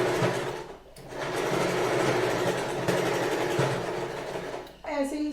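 A sewing machine stitches a frill onto a small bed, running in a continuous busy whir with short pauses near the start and end.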